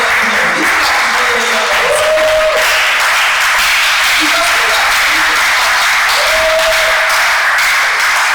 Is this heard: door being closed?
no